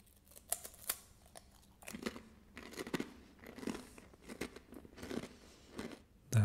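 Sharp, crisp crunches from biting and chewing seasoned smoked herb and tomato pita chips, a series of close, brittle bursts spaced irregularly over several seconds.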